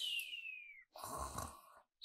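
A voice imitates a small boy snoring during a children's story read aloud: a long whistling, falling wheeze on the in-breath, then a rougher, rattling snore on the out-breath, heard alone and close.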